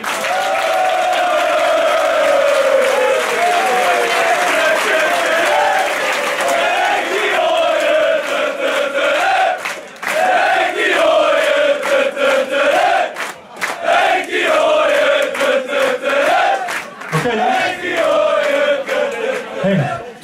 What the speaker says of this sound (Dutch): wil ik graag van iedereen hier aanwezig een enorm applaus